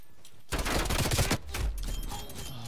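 Gunfire in the video game Call of Duty: Cold War, a loud, close burst of rapid automatic shots after a short quiet start, then a second, slightly softer stretch of firing.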